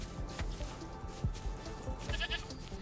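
A goat in a video game bleats in several short, wavering cries spread across the clip. The bleats sit over a steady layer of game background noise.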